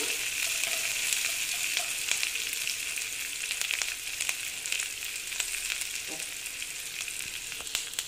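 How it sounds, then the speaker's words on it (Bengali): Ginger fries in a pan for an oats snack, making a loud, continuous hiss with frequent sharp pops and a few stirring scrapes, close and alone. "তারপরে দিচ্ছি আদা, দিয়ে আবার ভেজে নিচ্ছি।"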